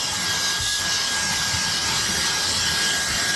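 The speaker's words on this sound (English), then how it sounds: "Vacuum everything out just like that." Brigii H5 high-speed handheld vacuum cleaner running while cleaning a car interior, a steady loud high-pitched whine with airy rushing hiss, close and continuous throughout.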